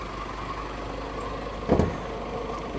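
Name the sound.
Honda City diesel car engine idling after start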